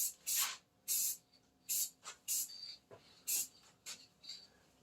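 A spray can applies black gloss enamel to a car part hung on a makeshift rack, in about ten short hissing bursts with brief pauses between them, close and fairly quiet.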